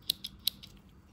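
Scissors on a Victorinox 111mm Swiss Army knife being handled: three small, crisp metallic snips, close and quiet, with fainter clicks between them, then a soft hush.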